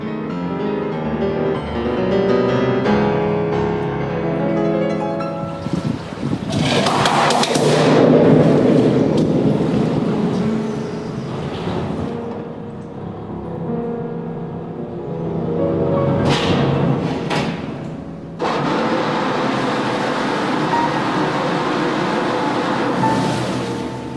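A narrowboat strikes the entrance of the Maida Hill canal tunnel in London, a loud rumbling crunch and scraping surge with swelling noisy bursts over a steady engine drone, close and sustained.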